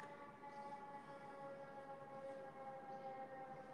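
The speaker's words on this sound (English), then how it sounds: "Sorry if you guys hear that siren in the background." An emergency siren wails at a distance through New York City streets, a faint sustained tone held steadily in the background with no voices.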